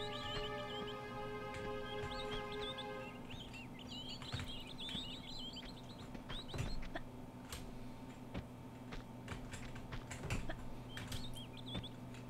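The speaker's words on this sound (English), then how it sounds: "Dude, those birds are ridiculously loud" Birds chirp and warble insistently in the video game Tomb Raider 2, with repeated shrill calls over a steady humming drone, joined by scattered clicks and taps and a held electronic tone early on.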